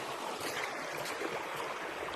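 Stream water at Trollers Gill flows in a steady, even rush of broadband noise with no distinct splashes, close to the listener and holding a constant level.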